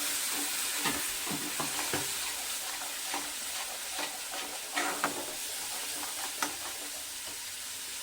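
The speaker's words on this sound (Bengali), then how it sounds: "এবার এই পেস্টটা একটু খুব ভালো করে ভাজা ভাজা করে নিতে হবে।" Coconut and onion paste sizzles in oil while a utensil stirs it, scraping in uneven taps over a constant frying hiss; nearby and fairly quiet, with no talking.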